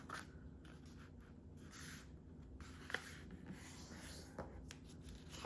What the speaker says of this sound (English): Go ahead and fold it in half like this.